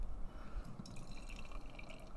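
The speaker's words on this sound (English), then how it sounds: "So let's pour this thing and see what we're looking like here." Dark bourbon barrel aged beer being poured into a tulip glass, a soft, steady liquid trickle and fizz with faint splashy detail, quiet and close with no talking.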